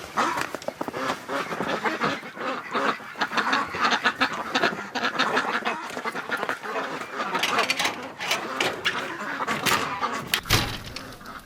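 A flock of Muscovy ducks on a winter morning gives off dense, continuous quacking, honking and hissing calls close by, a busy overlapping chorus throughout.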